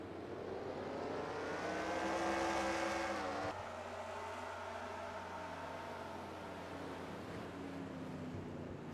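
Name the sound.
race cars accelerating on track at green flag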